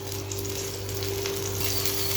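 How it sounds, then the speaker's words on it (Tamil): Thin tomato chutney boils in a pan, giving a continuous close hiss and fine bubbling sizzle over a low steady hum, with no voices. "சட்னி இப்போ நல்லா கொதிக்கட்டும்."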